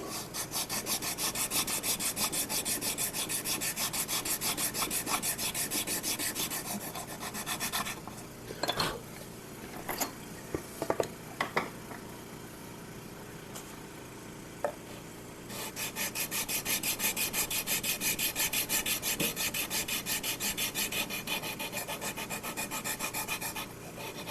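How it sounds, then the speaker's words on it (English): A guitar neck joint is sanded with heavy-grit sandpaper in steady, loud, rhythmic rasping strokes that pause midway for a few knocks and handling sounds before the scrubbing resumes. "It's got some heavier duty grit sandpaper on it."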